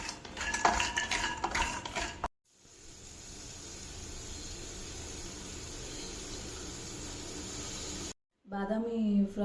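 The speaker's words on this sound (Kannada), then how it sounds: "ಇದು ರೋಸ್ಟೆಡ್ ಬಾದಾಮ್ ಥರ ಅಷ್ಟು ಫ್ರೈ ಮಾಡ್ಕೋಬೇಕು." Almonds fry in a pan, with a utensil clinking and scraping against metal at first, then a steady low sizzle that fills the middle before brief clatter returns at the end.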